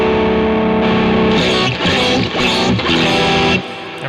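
Electric guitar on a clean amp channel driven by a boost pedal in Neural DSP Archetype, a few sustained strummed chords with gritty, compressed edge and reverb tail, alone without talk.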